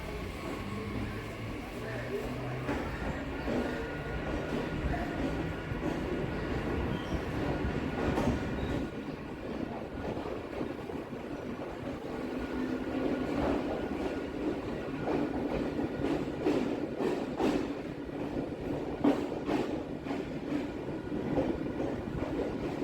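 A Kolkata local train from Barrackpore to BBD Bag on the Circular Railway rolls along with a continuous rumble, rhythmic wheel clatter and occasional squeals, while voices talk faintly over the noise throughout.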